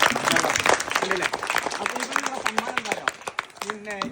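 A school audience breaks into applause, a crowd of hands clapping in a dense, uneven patter that runs throughout while voices talk over it close by.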